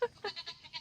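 A billy goat bleats in a wavering, nasal call up close, a few short pulsing bursts running together over under a second, with no talk over it.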